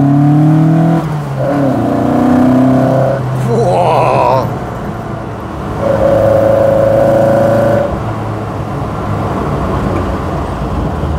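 A Fiat 131 Mirafiori Sport engine on twin Dell'Orto carburettors revs repeatedly with rising and falling pitch, a deep throaty induction roar sustained close by, with loud steady engine drone between revs.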